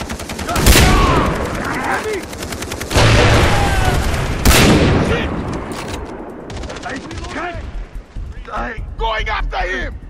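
Far Cry 3 co-op gameplay with bursts of gunfire: sharp loud shots at intervals, some rapid automatic fire, and booming impacts, mixed with voices talking over the action.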